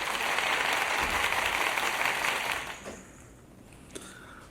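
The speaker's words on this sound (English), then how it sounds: "So let's give her a round of applause for that." Applause from an audience, dense clapping held loud and steady before fading away toward the end, with a brief sharp sound near the close.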